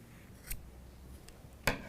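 Scissors snip through thick crochet yarn in a couple of quick, close cuts, with an earlier faint snip, in a quiet room with no talking.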